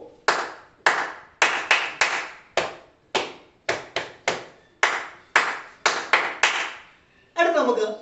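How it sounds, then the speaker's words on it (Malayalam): Thigh claps done as a Scout and Guide group clapping drill: about fifteen sharp slaps in an uneven, quick rhythm, close and loud, ending with a short burst of voices. "ഇതിനെ പറയും നമ്മൾ തൈ ക്ലാപ്പ്"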